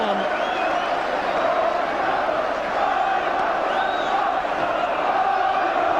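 About 5,000 Newcastle fans chant in Geordie accents at a 1981/82 Rotherham v Newcastle football match, a steady distant roar of crowd singing heard across the whole clip.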